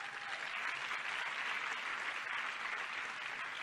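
Steady, dense applause from a speech audience, sustained evenly throughout with no voices rising above it.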